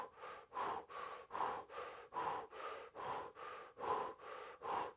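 Rhythmic, forceful breaths pushed through a rounded mouth with puffed cheeks during a calming breathing exercise, about ten even in-and-out cycles in five seconds, close and clear with no talking.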